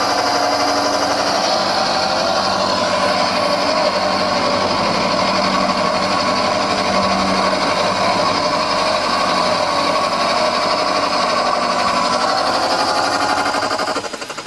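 Mini lathe cutting a metal surface during a refit, a loud, steady high-pitched motor whine with a constant grinding hiss that continues unbroken throughout before easing slightly at the very end.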